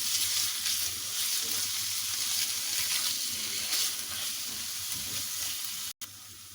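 Beef mince sizzles steadily in a pan, a continuous close, bright frying hiss that runs throughout with a brief dropout near the end.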